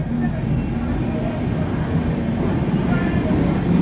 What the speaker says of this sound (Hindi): ये चेन्नई दुरंतो यहाँ पर मथुरा जंक्शन को एस्केप करते हुए इसके आगे गई है